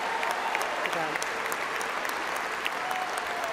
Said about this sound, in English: we give a round of applause for those first responders in our audience